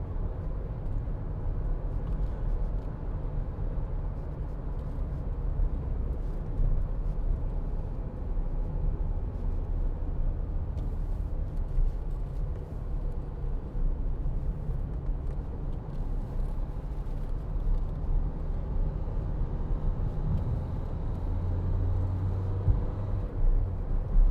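A 2016 Dacia Duster 1.5 dCi Laureate diesel cruises at a steady speed, heard from inside the cabin as a constant low road and engine rumble with even tyre noise and no voices.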